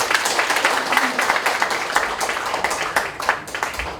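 An audience in a large hall at a foundation's founding ceremony applauds a guest speaker, steady dense clapping that carries on throughout, with a voice faintly heard over it.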